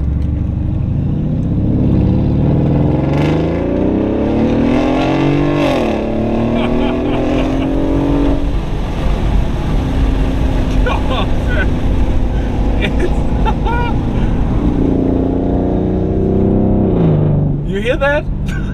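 Mercedes-Benz ML550 SUV engine accelerating hard from inside, its loud, close drone climbing in pitch through several gears with clear drops at each upshift before winding up again.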